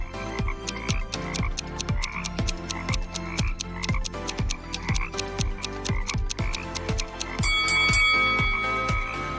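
Toads croak in a steady, rapid series of about twenty sharp, evenly spaced pulses, loud and close, with a brighter ringing tone joining near the end.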